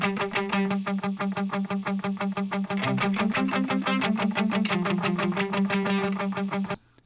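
Two distorted electric guitar parts, one panned hard left and one hard right, chug out a steady, rhythmic riff of rapid repeated strums with shifting chords, loud and dense throughout before cutting off at the end.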